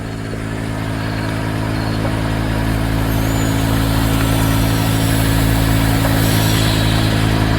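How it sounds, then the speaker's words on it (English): A Mercedes GL450 engine idles steadily and loudly up close, a constant low rumble with an even hum running throughout, no voices. "So the engine is running."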